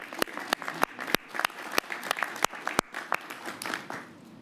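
Scattered audience applause at a mayoral press announcement, with sharp individual claps standing out over a thinner background of hands clapping, irregular and moderately close, fading slightly toward the end.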